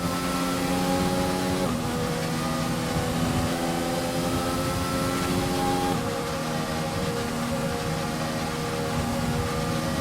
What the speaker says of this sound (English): Let's get the car up to temperature on this lap. We're learning the gears, so go through them all if you can.